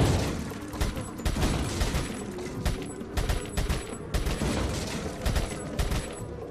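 Rapid repeated gunshots from the Resident Evil 4 shooting gallery in the video game, loud sharp cracks in quick irregular volleys over a continuous background hum, with no talking.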